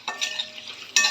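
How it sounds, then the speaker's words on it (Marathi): Spice tempering with salt, asafoetida and turmeric sautéed in a pan for raw mango rice, a soft crackling sizzle punctuated by light stirring scrapes, close and moderately loud with a brighter burst at the end. "फोडणी छान परतून घ्यायची."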